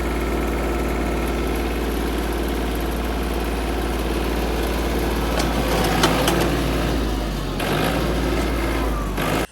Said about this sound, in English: I'm gonna go get the tractor and see if that works any better.